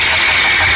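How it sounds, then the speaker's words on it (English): Car engine running with an abnormal oil pump noise, a loud, steady broadband whirring hum with no pauses or talk. "The oil pump makes abnormal noise."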